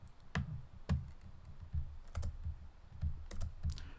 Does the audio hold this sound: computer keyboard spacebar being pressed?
yes